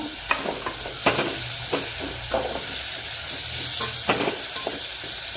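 Tomatoes tossed into reddish fried onions sizzle steadily in a pan, with a constant hiss and occasional scraping stirs close by.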